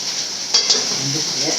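Masala for a Chettinad chicken curry sizzles steadily in a hot pan, with a couple of quick scraping stirs of a spoon against the metal close by.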